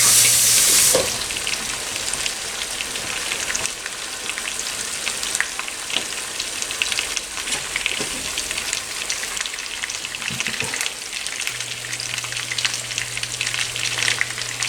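Lobster pieces searing skin side down in butter in a pan over medium heat, a steady crackling sizzle that continues close and unbroken, with a faint low hum of the stove underneath and no talk.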